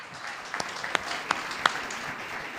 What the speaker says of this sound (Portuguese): Mais palmas ao rei, mais palmas a Deus.